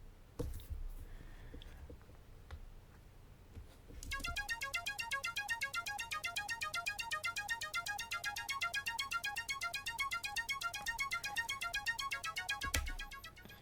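A Logic Pro ES2 synth arpeggio fed through a stereo delay plays a rapid, steady repeating pattern of bright plucked notes, loud and continuous from about four seconds to the end after a quiet lead-in.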